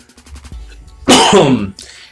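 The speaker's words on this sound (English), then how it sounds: "I'm still trying to shake off the cough." A single harsh cough bursts out up close after a quiet, murmuring start, followed by a brief rasp of breath.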